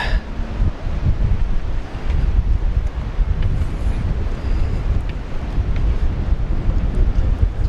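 Strong wind buffets the microphone on a narrow cliffside walkway of wooden planks at Caminito del Rey near Malaga, Spain, producing a steady, loud low rumble with no speech.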